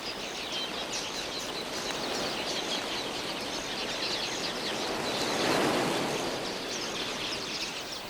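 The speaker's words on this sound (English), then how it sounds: "thousands of finches flock in to drink." A huge flock of red-billed quelea finches gathering to drink at a drying pan in Botswana, a dense continuous chirping and rustling wash of wingbeats that swells slightly midway, steady and enveloping with no voices.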